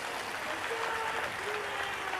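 At a religious gathering in Vadodara, a large crowd gives a steady, dense roar of applause that holds at an even level throughout.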